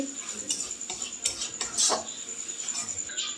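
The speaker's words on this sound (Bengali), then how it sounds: "এরপর এগুলোকে একটু ভালোভাবে কষিয়ে নেব।" A metal spatula scrapes and taps around a pan as chili powder and turmeric are stir-fried for dal, quick close clinks over a faint background hiss.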